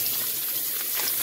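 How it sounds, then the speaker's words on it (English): Water pours steadily from a kitchen tap over frozen food stuck to paper, a continuous close hiss and splash with no pauses. "we're just going to put some water on it"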